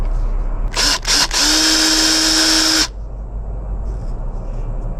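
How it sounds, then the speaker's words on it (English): A small drill whines in two quick bursts, then runs steadily for about two seconds before stopping, boring a hole into a sourwood arrow shaft, close and loud against a quiet room. "I'm going to drill a hole right at the bottom of this groove"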